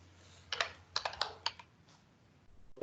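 Quick bursts of typing on a computer keyboard, a short run of crisp key clicks with brief pauses, close and fairly quiet in a still room.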